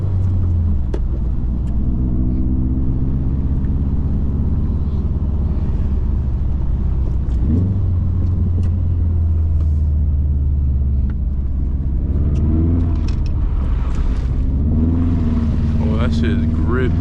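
A Subaru STI's engine rumbles steadily up close as the car drifts on winter snow, with revs swelling and falling at several points while people talk over it.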